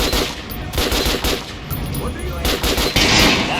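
Gunfire in the video game Metro Last Light Redux comes as loud, sharp shots and quick bursts, repeating every half second or so with short gaps between volleys.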